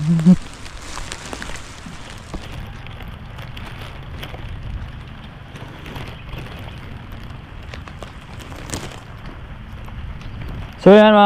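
Rain falls steadily on small garden plants, including string bean vines, making a continuous soft patter with scattered droplet ticks. A voice speaks over it at times, and a brief louder sound comes at the very end.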